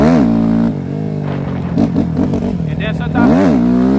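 Kawasaki KX250F dirt bike engine running rough and sputtering while ridden, revving up and down with uneven pitch sweeps, loud and close, with someone talking over it.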